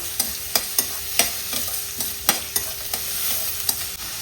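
Mustard oil frying in a pan with a fish masala base, a constant bright sizzle punctuated by regular sharp clicks and scrapes of a spoon, close up with no voices.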